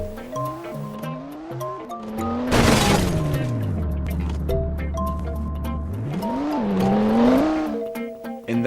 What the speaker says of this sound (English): the car was our object in motion, and the pillar was the unbalanced force stopping the car from moving